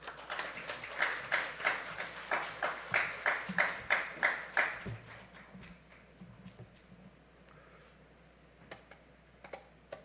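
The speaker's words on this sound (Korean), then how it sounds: "이제 총장님 나오실 때 박수로 한 번 더 환영하겠습니다" An audience claps in rhythmic unison to welcome a university president at a chapel service, loud even beats for about five seconds, then fading to scattered faint claps in a quiet room.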